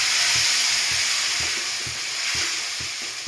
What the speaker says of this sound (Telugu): చట్నీ వేసుకొని ఫ్రై చేసుకొని